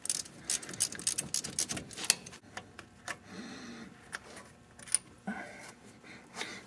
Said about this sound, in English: So let me try to get this bolt off, get this pin out.